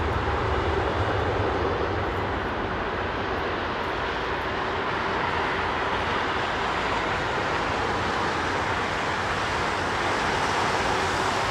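A Qatar Airways Airbus A380 on the runway at London Heathrow gives a steady, loud jet roar that holds unbroken for the whole stretch, with no speech.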